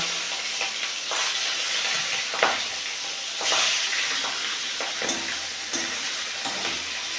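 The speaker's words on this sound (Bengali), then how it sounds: "তেল গরম হয়ে গেছে মাছগুলো দিয়ে দেব" Fish pieces frying in hot mustard oil in a wok, producing a moderate steady hiss and sizzle with occasional soft knocks and pops, close by and without speech.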